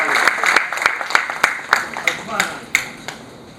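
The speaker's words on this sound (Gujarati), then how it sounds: "જોરદાર તાળીઓથી આપણે દેવેનભાઈને વધાવીએ." A small audience at a chamber of commerce investment session claps to welcome a guest, a thin scattering of separate hand claps that rise briefly and fade within a few seconds, with some voices underneath.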